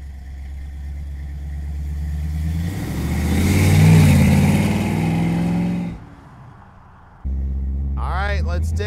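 1964 Ford Galaxie with a 460 V8 and its exhaust system, a close, throaty idle that swells into a rev, drops away briefly, then returns to a steady rumble while someone speaks over it.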